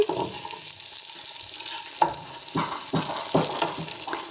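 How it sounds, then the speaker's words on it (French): Tofu browning in a pan while being turned, a soft sizzle broken by several scraping clatters of a utensil against the pan. "Je vais surveiller le tofu. Il est en train de dorer, je le retourne."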